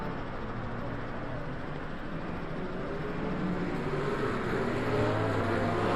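McLaren GT3 race cars run at Portimao in Le Mans Ultimate, a steady engine drone with rising pitch as one accelerates, sounding moderately distant and continuous.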